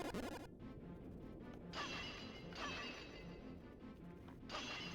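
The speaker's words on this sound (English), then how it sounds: "Smashing pots in houses." Clay pots smashing inside houses in The Legend of Zelda, several sharp crashes with scattered shards breaking at irregular intervals over a faint game background.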